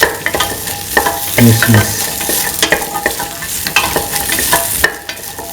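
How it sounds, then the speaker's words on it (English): Okra, ginger and shallots sauté in a pan, sizzling and frying loudly and close, with stirring scrapes and clicks throughout and a brief spoken word. "Sauce the okra, ginger and the shallots together until the shallots is pinkish color"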